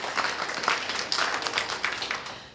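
An audience applauds at a Southern California artists' presentation, a steady patter of many hands clapping throughout, moderately loud and fairly close.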